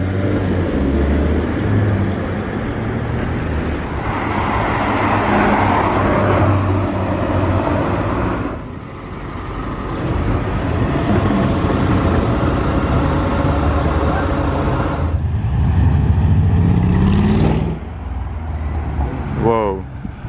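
A new Rolls-Royce Ghost drives past amid street traffic, its engine and road noise swelling and fading, while people talk nearby.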